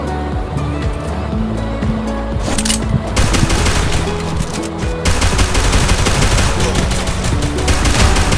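Rapid automatic gunfire in the battle royale video game Garena Free Fire, dense bursts of shots running almost continuously and loudly, with brief denser volleys and no speech over them.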